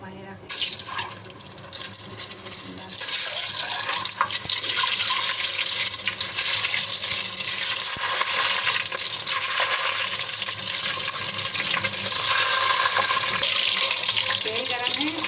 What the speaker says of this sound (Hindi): अब हम अंडे डालेंगे तलने के लिए।